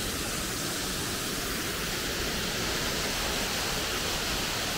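At Otter Falls in North Carolina, a waterfall and stream rush with a loud, steady, broadband roar that fills the whole stretch without pause, and nobody speaks over it.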